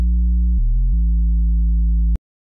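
A simple Serum synth bass patch with mono legato and slow portamento plays alone as a steady, sustained low tone that glides between a few pitches before cutting off abruptly.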